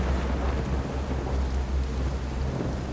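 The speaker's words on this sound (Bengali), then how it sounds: "আজকেই এমন বৃষ্টি শুরু হলো" Heavy rain pours steadily with deep, rumbling thunder rolling underneath, dense and continuous without a break.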